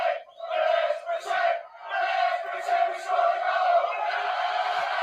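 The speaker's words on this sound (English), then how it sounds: "Apparently, this is what the crowd are singing." A football crowd sings a sustained chant in unison, a loud, droning mass of voices rising and falling in pitch with brief dips between phrases.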